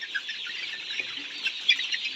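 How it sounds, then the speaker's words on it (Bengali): A flock of 52-day-old Kazi Farms Highland Brown layer pullets on a farm, a dense, steady chorus of high clucks and chirps at moderate distance. "এই বাচ্চাটা হচ্ছে কাজী কোম্পানি হাইল্যান্ড ব্রাউন জাতের একটা লেয়ার মুরগির বাচ্চা"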